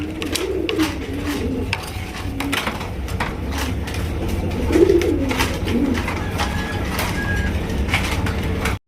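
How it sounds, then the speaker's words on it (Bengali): A Danish pigeon coos in low, throaty, repeated phrases close by, amid the faint rustle and background murmur of a busy pigeon market. "খুবই সুন্দরী একটা ডেনিশ কবুতর"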